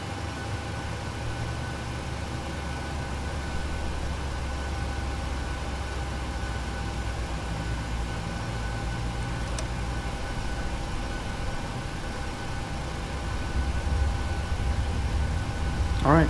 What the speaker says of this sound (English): we're going to start with the right engine